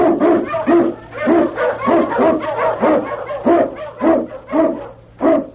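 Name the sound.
sled dog barking, Eskimo lead dog in radio drama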